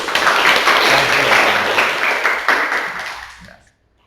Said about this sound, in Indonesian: Bagus, tepuk tangan untuk Binsa.